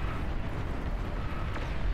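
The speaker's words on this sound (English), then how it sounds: "More explosions." Explosions in a large battle in the real-time strategy game Beyond All Reason, a continuous loud low rumble of blasts with crackling bursts layered on top, no talking.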